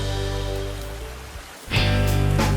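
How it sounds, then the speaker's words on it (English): Rain falls in a Peppa Pig cartoon as a steady, soft patter over a sustained musical drone. The sound dips briefly, then swells back louder, and no voices are heard. "It's raining outside, and Peppa and George watch the raindrops slide down the window"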